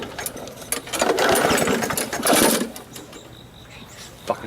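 A lawn mower engine failing to start, with rough sputtering and cranking bursts that rise and fall twice before dying away, close and loud, followed by a brief clatter.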